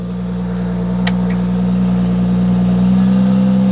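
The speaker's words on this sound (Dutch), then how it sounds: "Zeker ook in de vorm van het uitlaatgeluid in de 35i topmotorisering." A steady, droning BMW X3 35i engine idles loudly and builds slightly in pitch and volume through the exhaust, with a brief click early on.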